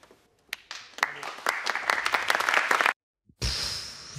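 A room full of school pupils applauds a speaker, steady close clapping for a few seconds before it cuts out, then resumes loudly after a brief gap.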